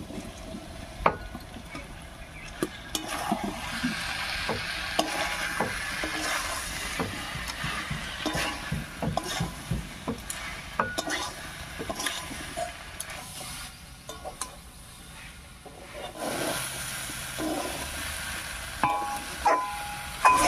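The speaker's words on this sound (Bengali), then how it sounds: "মশলার সঙ্গে এঁচোড় আর কাঁঠালটাও খুব ভালো করে কষিয়ে নিয়েছি" Young jackfruit and potatoes being stir-fried with spices in oil for a Bengali kathal curry, a soft continuous sizzle broken by frequent scraping and clattering spatula strokes, close and moderately quiet, with no talk.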